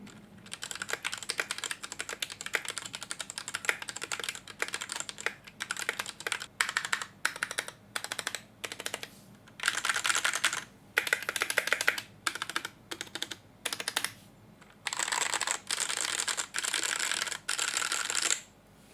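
Bursts of fast typing on a stock Noir N1v3 mechanical keyboard, dense close clacking keystrokes in uneven runs separated by short pauses, with no talk.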